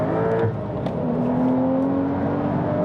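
A Porsche 992-generation 911 in sport mode with a Numeric Racing shifter, engine droning steadily with a rising pitch as it accelerates, heard from inside the car, with no talk.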